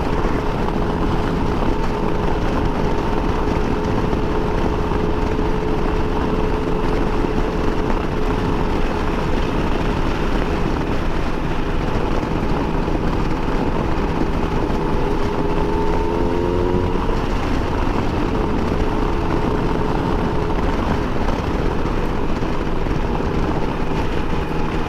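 Yamaha Tracer 9 GT motorcycle engine while riding, a loud steady drone mixed with wind rush, holding a constant pitch with a brief rise in tone partway through.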